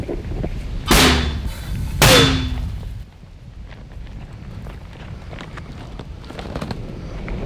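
Two loud, sharp 82mm mortar launches about a second apart, each a booming blast with a brief ringing tail, followed by quieter outdoor rustling and faint movement.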